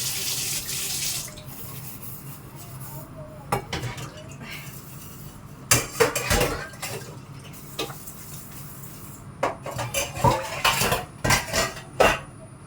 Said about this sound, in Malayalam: അവിടെ എന്തെങ്കിലും പാത്രം ഉണ്ടെങ്കിൽ അതും കൂടി നമ്മൾ എടുത്ത് ഒന്ന് ജസ്റ്റ് ഒന്ന് കഴുകും